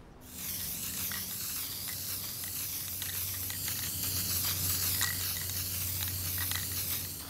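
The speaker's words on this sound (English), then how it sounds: "Now we'll get ready to spray our background." A steady, continuous hiss of spray paint from a nearby can, holding for several seconds without a break.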